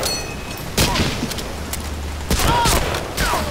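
Bursts of gunfire in Medal of Honor: Allied Assault, a World War II shooter game, with loud volleys of sharp shots separated by brief pauses over a steady low rumble.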